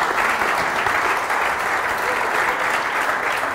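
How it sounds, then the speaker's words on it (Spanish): Sustained audience applause in a hall during a talk on the energy transition, after news that the solar tax has ended; dense, steady clapping held at one even loudness throughout, with no voices standing out. "Esto podemos hasta dar un aplauso y todo ahora."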